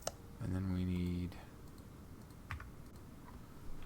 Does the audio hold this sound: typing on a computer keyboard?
yes